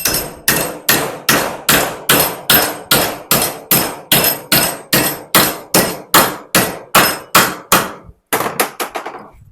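A hammer strikes a medium steel plate close to its gasless MIG weld, made with a transformer welder: around twenty loud, evenly spaced metallic blows, then a brief pause and a quicker flurry of fading hits.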